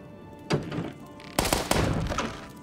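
Bomb thrown in the Starbound video game: two sharp explosive thuds land about a second apart, the second followed by a burst of crackling and rumbling debris that lingers to the end.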